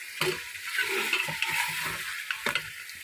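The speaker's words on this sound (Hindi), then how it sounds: "जब मसाला भुज जाए ना तो फिर समझे कि ये खाना भी अच्छा बन जाएगा।" Masala spices roasting (bhuna) in a pan for a lobia (white bean) chicken curry, with a steady sizzling hiss broken by a few scraping stir strokes; near and fairly loud, with no talking.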